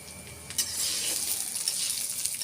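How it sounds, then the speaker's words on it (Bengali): Oil heating in a kadai (wok) on the stove before mung dal goes in for a vegetarian meal, giving a steady close hiss and sizzle that holds evenly throughout, with no talking. "কড়া বসিয়ে দিয়েছি, এবার তেলটা গরম হলে ডালটা দেব।"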